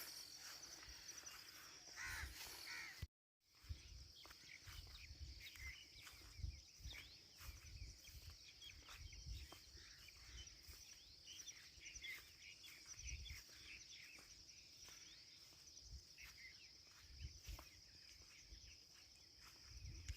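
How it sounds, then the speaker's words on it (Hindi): Birds call through a quiet village morning, with crow-like caws and a steady insect or cricket hum in the background, carrying on for the whole stretch apart from a brief dropout near the start. "कितनी प्यारी सुबह की गांव में जो है परिंदों की आवाज़ें"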